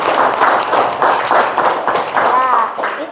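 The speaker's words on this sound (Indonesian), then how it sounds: "Kita beri tepuk tangan dulu" Classroom clapping in rhythmic bursts, several pulses of children's claps in a steady beat, with young voices chanting or calling along over them.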